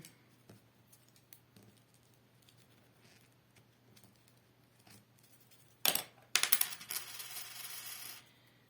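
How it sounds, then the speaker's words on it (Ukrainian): Faint scratching and light taps, then close, crisp scissor snips through crepe paper with rustling, building into a busy burst of cutting before stopping. "І далі ножицями вирізаємо. Зараз я обведу і виріжу."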